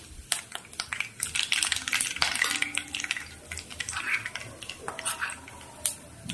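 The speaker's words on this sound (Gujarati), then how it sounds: "ત્યારબાદ થોડુંક જીરું અને રાઈ નાખીશું." Cumin and mustard seeds crackle and sizzle in hot oil along with cinnamon and curry leaves, scattered sharp pops over a low frying hiss and occasional utensil clinks, heard close for a dal tempering.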